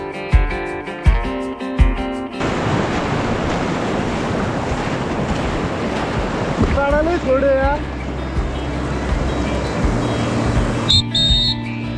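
Rapids on the Upper Seti river in Nepal during a rafting run, a loud, constant rushing roar of whitewater with voices heard over it and scattered knocks and tones at the start and end.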